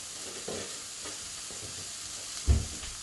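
Vegetables sizzle steadily in a hot pan, with a few soft stirring scrapes and one louder clunk near the end.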